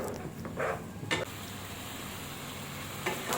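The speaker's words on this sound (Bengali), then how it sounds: "তো এটা মশলাটার কাঁচা গন্ধ ছাড়া পর্যন্ত আমি এইভাবে নাড়াতে থাকবো" Masala for paneer butter masala stirred and frying in a pan, a low steady sizzle with a few soft scraping strokes of the spoon near the start and end.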